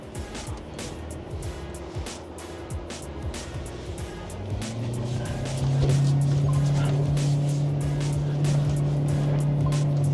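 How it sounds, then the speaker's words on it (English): A BYD Shark pickup in sand mode ploughs through loose sand, its engine loud and steady with a rising drone, tyres churning and spraying sand under continuous vehicle noise. "as you can see, the car handles sand."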